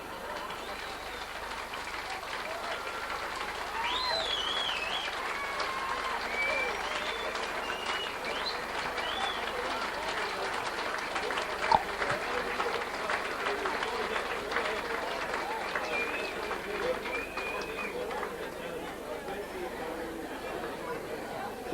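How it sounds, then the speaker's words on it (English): Audience applause for Canon Tommy Doherty's performance at a golden jubilee celebration in Raphoe in 1987. Steady clapping from a crowd runs through the whole stretch, with murmured chatter and a few whistles mixed in. "Canon Tommy Doherty, give him a good clap there because it's great to have him."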